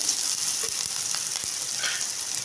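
Chopped green chilli dropped into a hot pan with tomato, a brief steady close sizzle with a few soft stirring taps, no talking.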